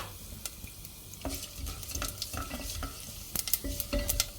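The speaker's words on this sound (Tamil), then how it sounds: "பொரியல் சத்தம் வந்துருச்சு பார்த்தீங்களா?" Mustard seeds crackle and pop in hot oil with cumin and black pepper, a busy run of small sharp bursts over a low sizzle, close and fairly quiet.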